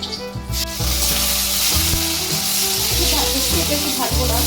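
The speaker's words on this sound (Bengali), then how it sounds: "আমি আলুটাকে একটু ভেজে দেবো।" Potatoes fry in hot oil in a wok with a loud, close sizzle, broken by repeated knocks and scrapes of a metal spatula.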